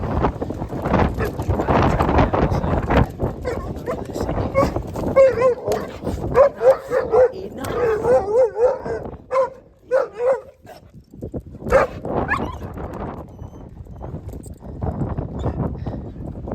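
A dog barking repeatedly and whimpering on seeing another dog during a stormy morning walk, sharp barks in clusters over gusting wind noise on the microphone, with a person speaking at times.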